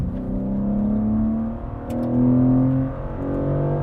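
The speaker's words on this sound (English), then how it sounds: "Okay, I'm gonna downshift. Same power level. Go." A 2024 BMW M3 CS engine revs after a downshift, loud and close: two sustained, rising engine drones separated by a brief dip, with no talking.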